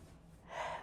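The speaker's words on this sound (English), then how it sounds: "Sorry if there was a really gross snuffly sound in there." A single wet, snuffly nasal sniff from a person with a blocked nose, close and soft, rising briefly at the end of the moment with no talking.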